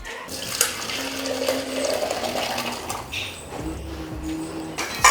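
Water runs steadily from a kitchen tap while a cooking vessel is washed, a close continuous splash with shifting tones as the pot moves under the stream and a few light clinks.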